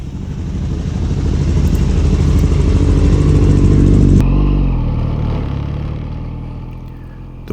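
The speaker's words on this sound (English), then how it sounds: "we're all warming up our engines with a lot of anticipation for a great day of riding" Motorcycle engines idle and warm up loudly and close by on a morning before a day of riding in Oregon, a deep steady rumble that briefly swells around the middle and then settles and fades slightly.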